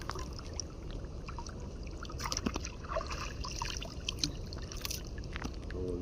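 Water trickling and dribbling steadily with a few splashy drips, close by on a fishing outing after a tilapia catch, continuous and fairly soft with no talk.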